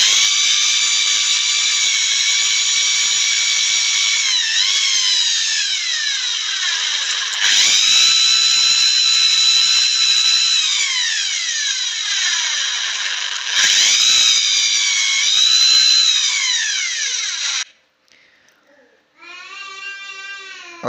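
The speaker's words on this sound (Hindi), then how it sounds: "ये ड्रिल मशीन के साथ सुराख कर लेने हैं हमने।" An electric drill bores holes in a plastic refrigerator door basket, whining loudly and steadily in long bursts whose pitch shifts with load, then stopping briefly before a short final run.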